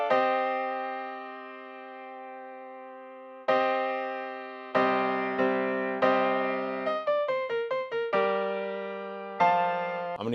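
A keys melody sample plays on its own: sustained chords with clean attacks, then a run of quick stepped notes before the chords return.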